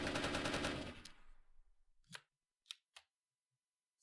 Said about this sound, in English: you can also hear the gunshots kicking down as we get to the end